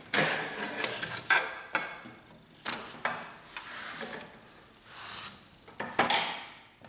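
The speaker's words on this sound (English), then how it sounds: "Remove the paper cassette and the paper." A paper cassette is pulled out of an HP LaserJet MFP M234 printer, with a series of plastic clicks, slides and knocks in uneven bursts, close and clear with quiet gaps between.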